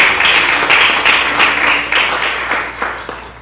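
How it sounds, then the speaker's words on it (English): Round of applause from an audience at a county freeholders' meeting honoring state championship swimmers and fencers, a dense steady clapping that lasts throughout and gradually thins toward the end. "that deserves a round of applause"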